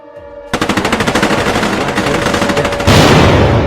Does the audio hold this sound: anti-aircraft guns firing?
yes